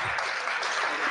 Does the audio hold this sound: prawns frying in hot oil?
no